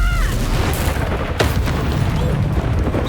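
Confringo fire spell explosions in the Hogwarts Legacy video game: a dense, loud rumbling boom sustained throughout, with a sharp crack near the middle and faint voices beneath.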